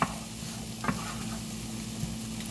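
Butter sizzles in a pan with a steady hiss over a low background hum, a few soft knocks of a utensil here and there, close and even with nobody speaking.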